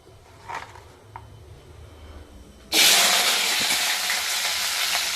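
Chopped onions dropped into hot oil with popped mustard seeds, a quiet pan that bursts into a loud, steady sizzle and hiss that continues to the end, close up.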